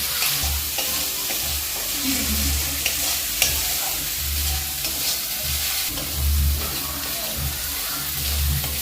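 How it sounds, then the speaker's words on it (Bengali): Onion, ginger and garlic fry in a pan while being stirred continuously, a constant close sizzle with repeated low scraping strokes of the spoon. "বেশ ভালো করে এটা নেড়ে নেড়ে আমি ভেজে নেবো যাতে না নিচে ধরে যায় তাই আমি কন্টিনিউ নাড়তে থাকবো"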